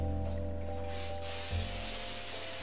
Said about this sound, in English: just lightly spray the pan